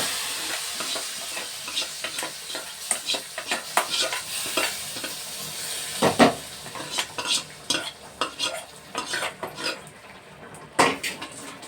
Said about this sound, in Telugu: ఇవ్వండి పోపు వేసేస్తున్నాను ఇందులో